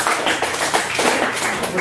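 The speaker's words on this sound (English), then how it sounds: "Clap for that too." An audience at a comedy show in Brantford claps together, a steady wash of hand claps lasting a couple of seconds with a voice mixed in.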